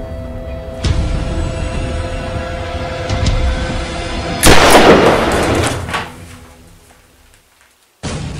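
A single gunshot rings out during a tense home invasion scene, a sharp loud burst in the middle followed by a fading rumble, set against ongoing background noise with another abrupt hit at the end.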